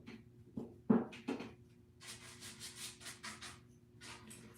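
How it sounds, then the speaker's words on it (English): A brush is dragged dry over textured, painted and distressed furniture to work in wax, producing soft, close rubbing and swishing strokes in a quiet, uneven rhythm with no voices. "Dry brushing the wax over all that texture that I wet distressed or sanded back at the bottom."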